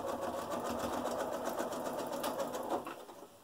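Sewing machine stitching a fabric mask with a filter pocket, a rapid steady whirring hum of the needle running continuously at close range, easing off at the end.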